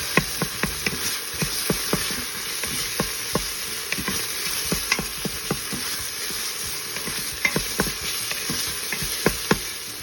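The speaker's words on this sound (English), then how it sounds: "I'm going to add a good full spoon of garlic into this and let them saute together again." Garlic and onion sauté in an Instant Pot with a continuous close sizzle and fizz, dotted with light crackles and pops and occasional stirring clicks, with no one speaking.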